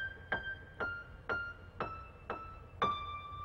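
Soft, quiet piano playing a short phrase of six evenly spaced single notes, each ringing and fading before the next, with no talk.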